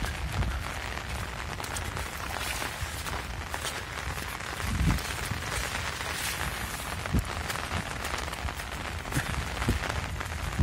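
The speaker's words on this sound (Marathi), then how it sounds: "आमच्याकडे तर भरपूर असा पाऊस आहे" Steady heavy rain pours down, a constant dense patter and hiss on surfaces throughout, with no voices.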